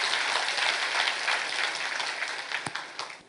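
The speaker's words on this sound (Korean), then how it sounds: "우리 다시 한번 박수로 하나님께 영광을 드리겠습니다." A church congregation at a Friday worship service applauds steadily, with dense, sustained clapping filling the space before a few sharper claps stand out and the applause starts to fade.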